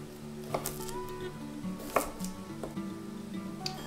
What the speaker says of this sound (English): I'll prep up these garlic pieces. Again, it can be rough chopped